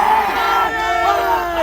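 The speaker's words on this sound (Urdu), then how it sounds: "نعرے بھی لگا لیجیے گا" Protest crowd in Karachi, opposition parties demonstrating against the Sindh government, chanting slogans together, loud and close, a dense roar of many voices without pause.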